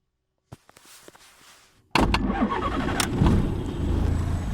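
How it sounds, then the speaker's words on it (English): A Jabiru aircraft engine fitted with Rotec liquid-cooled heads cranks with a few clicks, then catches and settles into a loud, steady close-up idle. "So I'll start the engine again."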